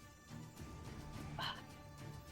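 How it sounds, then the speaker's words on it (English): Pet dog barking indoors, a few short yips and woofs at moderate distance, fairly faint and unaccompanied by speech. "Don't mind my dog."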